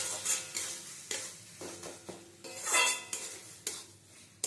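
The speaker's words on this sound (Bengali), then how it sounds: "লোটে মাছটা দিয়ে ভালো করে মশলার সাথে কষিয়ে নিতে হবে।" A spoon scrapes and knocks against a pan while Bombay duck fish is stirred and fried with spices, irregular clattering strokes close by over a soft sizzle.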